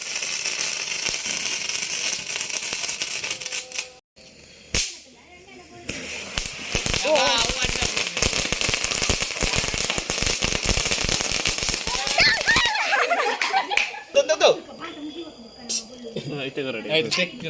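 Firecrackers crackle and pop in a long, dense burst of rapid snaps, with people talking and exclaiming around them.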